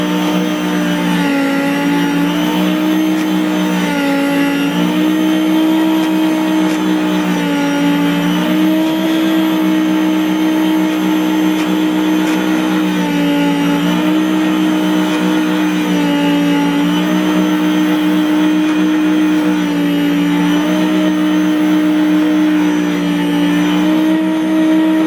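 An electric meat slicer hums steadily while slicing a hickory smoked turkey breast, with a continuous motor whine and a faint cyclic rise and fall as the blade passes through the meat, close and loud throughout.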